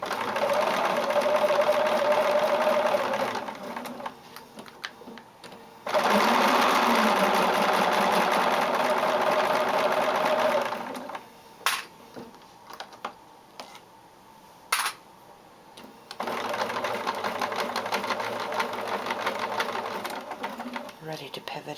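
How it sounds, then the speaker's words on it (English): A domestic sewing machine stitches along the edge of a fabric face mask in two long whirring runs, separated by pauses with small clicks and a later third stretch of stitching, close and fairly loud. "it's much easier to sew along this edge than it was on the previous bit"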